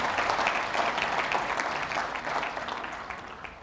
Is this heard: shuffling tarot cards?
no